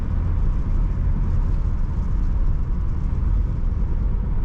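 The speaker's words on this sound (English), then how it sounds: "Nice quiet factory sound to this exhaust. A little rumble, but not too much." A 1951 Ford Custom two-door sedan's factory exhaust gives a steady, low rumbling drone, close and even, with no gaps or changes in pitch across the whole stretch.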